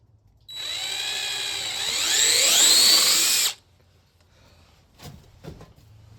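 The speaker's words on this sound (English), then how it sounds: "we'll drill it through" A power drill whirs for about three seconds while drilling through a hole in a garage tail light, its pitch rising under load, then stops, followed by a couple of faint knocks.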